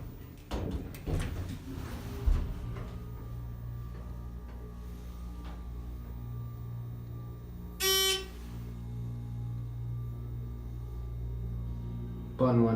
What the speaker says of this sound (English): I'll let you listen to the motor going up.